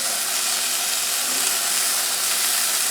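Spinach-stuffed pork chops sizzle loudly in a hot pan just after being flipped, a dense continuous hiss and crackle filling the whole moment with no talking.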